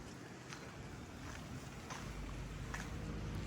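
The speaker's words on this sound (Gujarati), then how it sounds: "આ જુઓ કેટલો પવન હોય બહુ પવન બહાર" Steady, heavy wind rushes and buffets outdoors in a snowy place, a broad roaring noise that swells slightly toward the end, with no voices.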